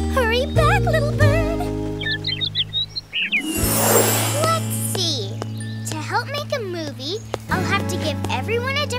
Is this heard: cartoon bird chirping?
yes